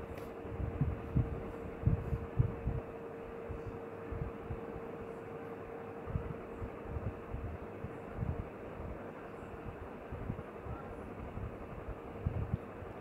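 A sewing machine stitching a blouse, low rapid mechanical thumping in uneven runs under a steady motor hum, close and fairly quiet, with no talk.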